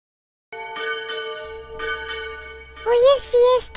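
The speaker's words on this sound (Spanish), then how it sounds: "Hoy es fiesta y por eso suenan las campanas." Church bells ring for a festival day with several clear, resonant strikes that leave a lingering tone, then a voice comes in near the end.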